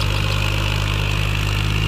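A tractor engine idles steadily with a loud, constant low rumble and even vibration, close by, with no talk.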